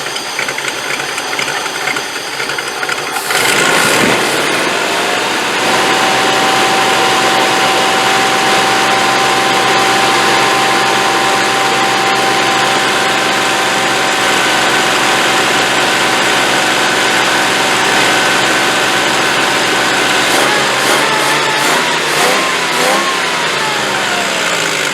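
A 1985 Land Rover 110 ex-NATO V8 engine starting and running, loud and close, a steady rumbling idle with a faint whine that rises briefly near the end, no voices.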